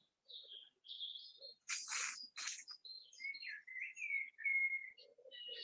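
Birds sing and chirp outdoors beside woodland in short, high whistled phrases, with a couple of louder bursts of rustling noise between the calls.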